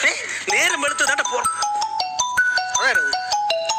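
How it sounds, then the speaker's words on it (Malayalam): A mobile phone rings with a bright electronic melody of stepped tones, loud and close, while a person talks over its first moments. "അതെന്റെ ഫോണാ."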